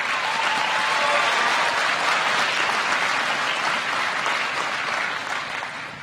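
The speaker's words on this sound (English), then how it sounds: "please join me in a round of applause for your professors, your family, your friends" A commencement audience at Richard Bland College gives sustained, dense applause for professors, families and friends, a broad wash of many hands clapping at once that stays loud throughout and eases slightly at the end.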